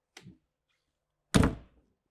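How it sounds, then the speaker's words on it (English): A Newmar King Aire motorhome door swings shut with a single solid thunk, preceded by a faint lighter tap from the latch or panel; close and isolated, with no talk. "close the door."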